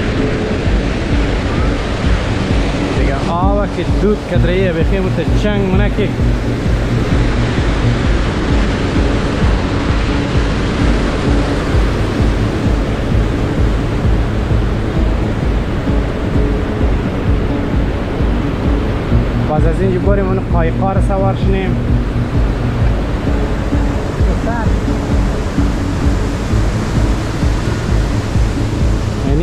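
The Rhine Falls waterfall at Schaffhausen sends up a loud, continuous roar of rushing water, steady throughout, while someone speaks briefly over it.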